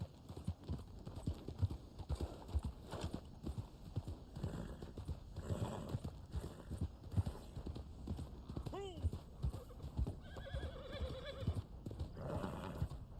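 Horse hooves clip-clop at a steady trot in Red Dead Online, with a whinny partway through and faint voices underneath.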